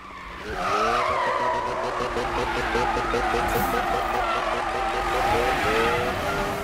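A 2002 Mazda RX-7 Spirit R engine in Need for Speed (2015) roars continuously with a rough, pulsing rasp, revving up and holding a high pitch, with a faint squeal of tires.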